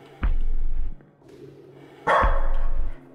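A dog barks in the horror video game Lost in Vivo: two loud, close, booming barks about two seconds apart, each held for under a second, over faint background ambience.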